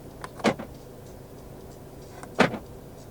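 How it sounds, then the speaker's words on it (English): Central locking on a 2022 Volkswagen Arteon 2.0 TSI 4MOTION R-Line actuates twice, two short sharp mechanical clunks about two seconds apart, close and clear in a quiet cabin. "Electronic central locking."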